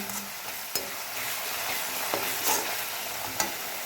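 Okra spicy curry masala being sautéed in oil, heard as a continuous close sizzle with occasional sharp spoon-on-pan clicks and stirring scrapes, no talk.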